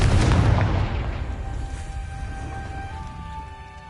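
A Confringo explosive spell goes off in Hogwarts Legacy, a single loud booming blast at the start that rolls away into a decaying rumble with faint ringing tones lingering, no speech.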